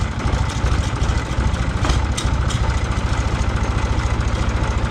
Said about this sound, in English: we're going to call that pretty good on our idle right there